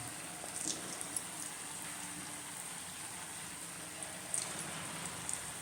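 Jackfruit sweet bonda fry in hot oil with a soft, continuous sizzle and bubbling, fairly faint and steady throughout, with a few small pops.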